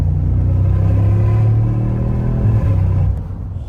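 A loud, deep V8 roar up close from a 2025 Mercedes G63 SUV that holds steady, then drops off abruptly near the end as the revs fall on an upshift.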